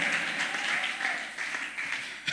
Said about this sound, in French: tu peux l'applaudir encore et pousser des cris de joie pour lui